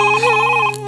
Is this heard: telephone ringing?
yes